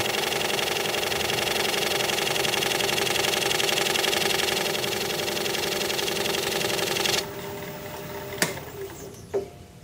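Wood lathe spinning at about 700 RPM during bowl turning, a loud steady mechanical hum with a fast rhythmic rattle that cuts off sharply near the end, followed by a couple of faint knocks, no talking.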